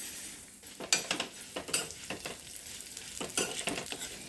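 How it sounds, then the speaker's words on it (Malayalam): Broken vermicelli roasts in ghee in a pan for payasam, a soft, low sizzle punctuated by quick metallic scrapes and taps of a spoon stirring it. "ഇനി നമുക്ക് പൊട്ടിച്ച സേമിയ വറുക്കാം."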